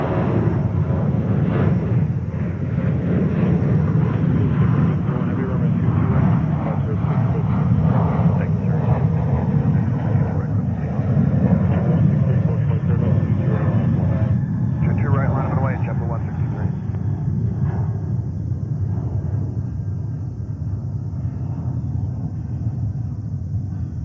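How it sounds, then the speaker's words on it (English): A UPS Boeing 767 takes off at JFK, its engines a broad, steady roar that holds for the whole stretch before easing slightly near the end, with people talking underneath. "UPS 767 takeoff."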